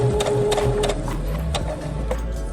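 A Brother SE1900 sewing machine stitches a minky baby blanket, a close, rapid mechanical whir with a brief tonal hum and a few clicks as the fabric is fed through.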